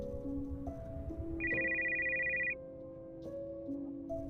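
A phone rings on a kitchen counter with a bright electronic ringtone melody, close and clear, playing steadily for several seconds with no one speaking.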